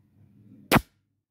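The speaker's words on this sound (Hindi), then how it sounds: "अभी मैं दूसरा पैलेट फायर करने लगा हूँ।" A single sharp report from an HT-X3006 air gun firing a pellet through a chronograph, loud and close, preceded by faint low handling noise and followed by quick silence.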